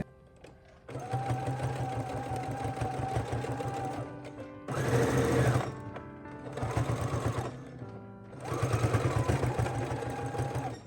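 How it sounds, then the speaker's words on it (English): A sewing machine runs in bursts, its fast mechanical stitching whir starting and stopping several times, loud and close. "we're done with the sewing machine"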